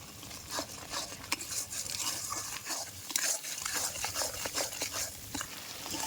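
Spice paste with salt and Kashmiri chilli powder fries in oil for shahi paneer, a spoon scraping and stirring the pan steadily over a continuous sizzle. Close and fairly loud, with no voices.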